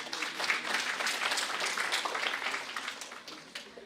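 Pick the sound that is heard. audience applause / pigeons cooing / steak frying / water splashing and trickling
audience applause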